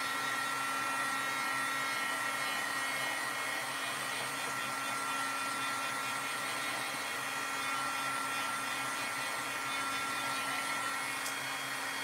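A hair dryer blows steadily and loudly up close, drying stencilled rainbow jellybean artwork, a constant even whir with no voices over it.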